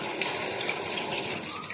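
Tap water runs steadily into a sink while food is washed for cooking, a close, continuous splashing hiss with small fluctuations and no talking.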